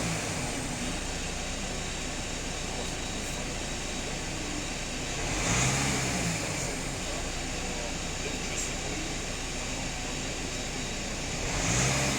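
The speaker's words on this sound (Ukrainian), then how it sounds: "Автомобіль сам буде підгазовувати," A steady Audi A4/A6 EA288 diesel engine idling with a broad rumble, rising briefly in two gentle revs as it throttles up on its own during a diesel particulate filter fault.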